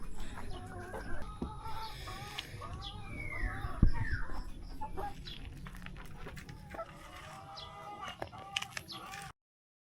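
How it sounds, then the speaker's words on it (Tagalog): Golden buff chickens on a farm clucking and squawking close by as they are called to eat, with a dog bark-like cry and a person talking in the background. "Tatawagin na natin yung mga golden buffs natin"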